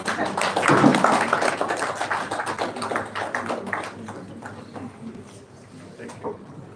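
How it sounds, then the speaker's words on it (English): Audience applause at a Nigerian-American Chamber of Commerce award presentation, a burst of clapping that starts strong and tapers off over several seconds, with a voice speaking over it. "Please, a round of applause for him."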